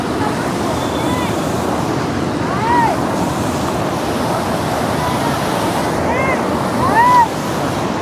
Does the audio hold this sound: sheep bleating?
no